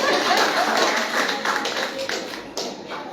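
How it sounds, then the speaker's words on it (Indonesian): Congregation applauding during a Christmas sermon at a church service, a dense, steady patter of many hands clapping that carries through the whole stretch at a fairly loud level. "tepuk tangan untuk Tuhan"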